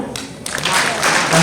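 Audience applause at a Himachal school talent event, a steady broadband clapping that swells after the first half second and carries on loud, mixed with some voices.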